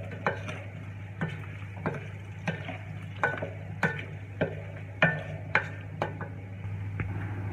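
Shrimp stirred in a pan with onion, pepper and salt, giving a steady series of regular scraping clacks of the utensil against the pan about every half second over a low hum and soft frying.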